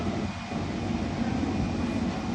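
A London Underground train approaches Hainault station, a continuous low rumble and rolling hum with a faint steady whine, moderately loud and unbroken, with no voices.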